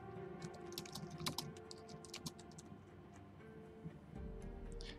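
Soft computer keyboard typing, clusters of light clicking keystrokes in uneven bursts, faint and close over a low background hum, with no talking.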